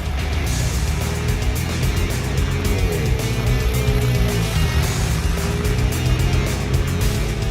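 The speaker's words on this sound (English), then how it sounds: "At that point, the bike takes off very slowly at first. It takes a little bit to start building up turbo boost." A turbocharged drag motorcycle launches slowly off the line, its engine a loud, continuous droning roar with rising harmonic tones as boost builds, steady and close throughout without any talk.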